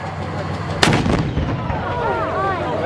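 A Soviet T-34 tank fires its main gun once, a single loud, sharp blast that rolls into a long, booming echo, with background voices and crowd noise continuing under the fading rumble.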